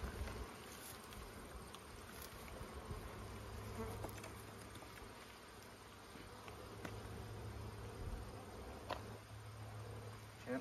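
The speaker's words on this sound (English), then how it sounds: "So there's lots of bees in here." Honey bees buzz inside an open hive brood box in Ontario, Canada, a close, continuous droning hum with individual bees passing near, quiet and steady with no talking.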